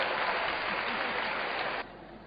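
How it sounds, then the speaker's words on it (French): Audience applause at a live stage performance in 2013, a dense, steady wash of clapping that holds loudly, then drops to a quieter level near the end. "on s'applaudit parce que nous sommes les meilleurs"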